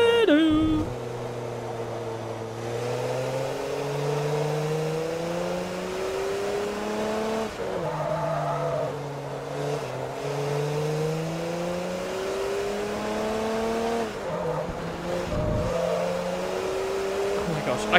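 Race car engines roar through the final lap in Forza Motorsport 3, a continuous high whine rising and falling with gear changes, with a player's voice talking over the engines throughout.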